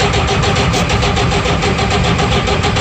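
A Cummins 335 diesel engine cold-starts on ether with the decompression valve pulled, cranking and firing in a loud, rapid, rhythmic chug that fills the whole stretch, with no talk over it.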